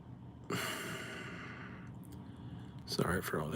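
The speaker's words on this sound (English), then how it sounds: "Sorry for all the heavy breathing." Heavy, close breathing from a man opening basketball card packs: a long loud exhale like a sigh, then a pause and further rough huffing breaths with a faint click.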